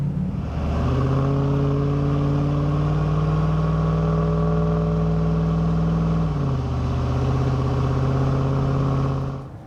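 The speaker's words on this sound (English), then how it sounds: "we'll continue our test drive." A car on a test drive hums along at steady speed from inside the cabin, the engine note holding level and then shifting down once partway through before climbing again.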